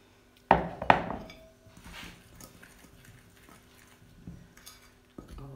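All-purpose 00 flour and salt being mixed for Italian shortbread dough, with two sharp clinks of a utensil against a bowl followed by softer scraping and stirring.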